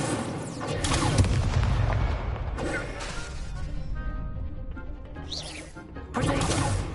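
Incendio fire spell cast in Hogwarts Legacy amid combat, with rumbling fiery bursts and crashing impacts rising and falling, a quieter gap midway and a fresh loud burst near the end, with brief voices mixed in.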